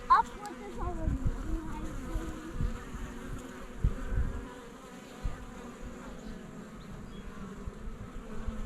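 Honeybees hum steadily around an open hive during an inspection, a close, continuous buzz with a few louder passes near the start and faint talk in the background.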